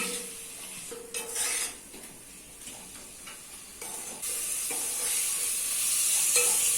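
Two chopped medium tomatoes sizzle and fry in oil in a pan over a medium flame for chicken curry, with close stirring and a few utensil scrapes over a steady hiss.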